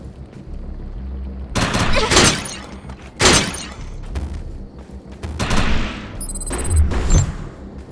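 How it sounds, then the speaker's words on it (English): Gunfire in the shooter game Defiance, with loud bursts of rapid shots in several clusters over a steady background rumble, plus a few sharp electronic tones near the end. "Shoot the projection while overcharge is activated."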